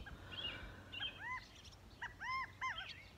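Several short, high quail chirps in quick bursts, faint and somewhat distant over a low outdoor hum.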